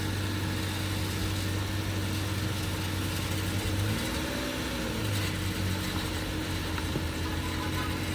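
An auction car's engine idles steadily, then rises in a brief rev near the midpoint as the car is driven forward before settling back to a low idle, with no talk over it.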